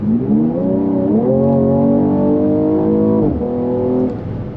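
Mercedes-Benz E53 AMG engine pulling hard from a 1,500 RPM cruise, loud and close, with the note climbing through a held gear, a brief dip at a shift, then rising again.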